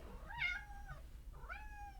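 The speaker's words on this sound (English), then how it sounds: "Can you hear my cat?" A house cat meows twice indoors, a rising-falling cry followed after a short pause by a second shorter one, soft and fairly distant over a low background hum.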